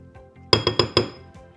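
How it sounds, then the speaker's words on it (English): Blueberry filling scraped into a heat-proof bowl, giving four quick, close clinks of utensil against the bowl in a short burst, with quiet room tone before and after. "I just put it in this heat-proof bowl."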